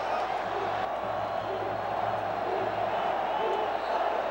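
Vasco da Gama football supporters at a Rio stadium waving goodbye as Flamengo fans leave, a steady, dense roar of crowd noise with chanting and scattered shouts, distant and unbroken.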